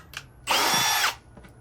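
A power drill bores drainage holes in plastic Costco buckets, one loud steady whir lasting just over half a second, close up, with quiet before and after.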